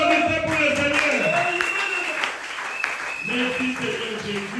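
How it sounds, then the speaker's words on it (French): A church congregation claps for the Lord during a Tuesday worship service, rapid hand claps running steadily throughout while a voice carries over them. "applaudissez pour le Seigneur"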